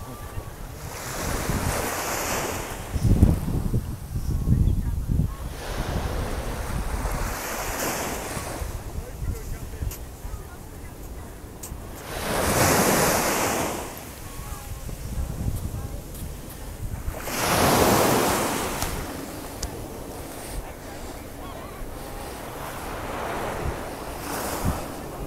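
Sea waves at English Bay, Vancouver, in winter, surging in recurring washes every few seconds, with steady wind rumble buffeting the microphone throughout.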